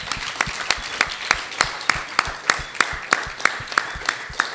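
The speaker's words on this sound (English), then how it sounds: "Give them a round of applause." An audience applauds at the close of an education-themed Q&A event, a steady patter of hand claps with regular sharper peaks running through the whole stretch, fairly close and without speech over it.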